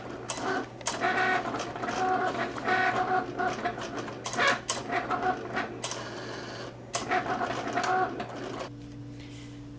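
Cutting machine slicing iron-on vinyl for a reverse canvas project, a steady mechanical whir with irregular bursts of carriage movement and clicks, close and fairly loud, then a lower steady hum as it finishes; no talk.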